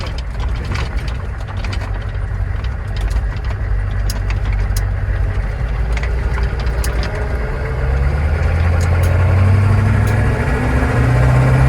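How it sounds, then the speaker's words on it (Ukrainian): A military armored Humvee's engine runs with a low, rough diesel rumble that builds as the vehicle gets moving, close and loud, with light rattles and knocks and no talk. "Сьогодні у нас військовий броньований хамбі"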